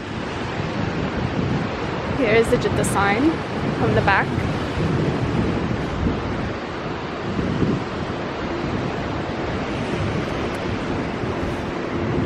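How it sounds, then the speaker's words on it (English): Steady wind rushes across the microphone along the Jeddah New Corniche seafront, a dense broadband roar that holds throughout while a voice briefly speaks near the start. "the wind feels amazing"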